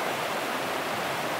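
Winter river rushing past snow-covered logs, a dense, steady roar of flowing water that stays loud and unbroken throughout, with no voices over it.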